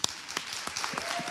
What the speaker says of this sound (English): let's just give a round of applause for our coaches